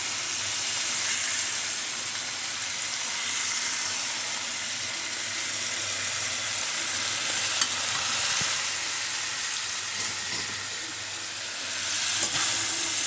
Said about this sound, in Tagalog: At haluin mabuti para makumbine lahat ng mga sangkap na inaking linagay.